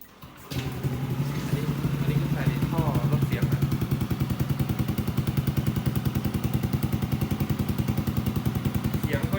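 A Yamaha Aerox scooter with an Akrapovic exhaust and silencer insert idles with a steady, pulsing exhaust burble, close and fairly loud, a rapid even throb continuing throughout.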